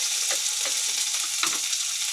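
Steady loud sizzle of tomatoes frying in a pan with sardines, a continuous hiss with a few soft stirring scrapes and pops, no voices.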